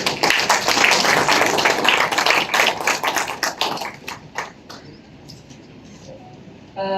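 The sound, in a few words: audience applause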